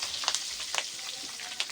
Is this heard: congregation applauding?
no